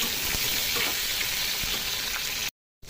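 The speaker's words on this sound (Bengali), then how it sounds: "আমি পুরো পটলটা কিন্তু একবারে ভেজে নিচ্ছি।" A whole batch of pointed gourds fries together in mustard oil, making a dense, steady sizzle with occasional stirring knocks close by. The sound cuts out briefly near the end.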